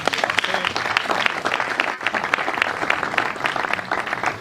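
Dense applause from an audience at a church closing ceremony, continuous loud clapping with a brief dip midway before it carries on.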